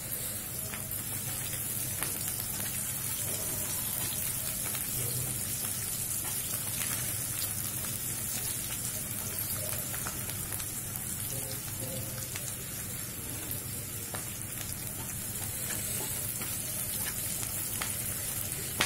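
Onions and green chillies fry in a pan for a chilli mushroom dish, giving a steady, continuous crackling sizzle at close range with faint stirring scrapes and no talk.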